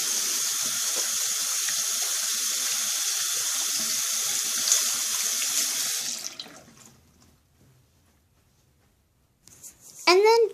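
A tap runs steadily into a sink while hands are washed, heard close and continuous for about six seconds. It then shuts off and fades out, followed by brief, louder handling noise at the end.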